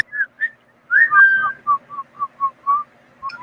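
A person whistles a series of short, clear chirping notes with one longer held tone, loud and close, with no talking over it.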